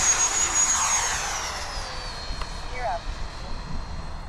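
A 90mm EDF F22 RC jet plane taking off, its ducted-fan whine strong at first, then fading into the distance.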